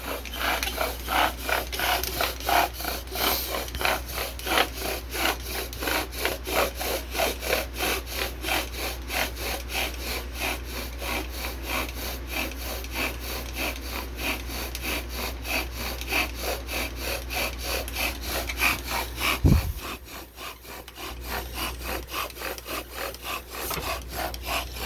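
A bow drill saws back and forth on pine wood in a fast, even rhythm of rasping strokes, close and steady, then stops near the end.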